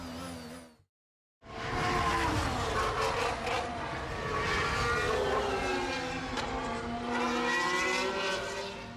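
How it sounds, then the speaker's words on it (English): A 2022 Formula 1 car runs flat out through the gears with DRS open on a lap of Interlagos, its engine screaming loud and continuous with rising pitch sweeps after a brief silent gap. "You're flat out rising 6th gear, 7th gear, 8th gear as well. Flat out with the DRS open as you come across the line."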